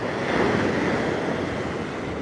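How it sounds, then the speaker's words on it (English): Ocean waves break and wash onto a beach in a continuous loud roar of surf, with wind rushing across the microphone and no voices. "You got some waves coming. That's a good one building up right there."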